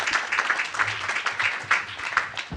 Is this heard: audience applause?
yes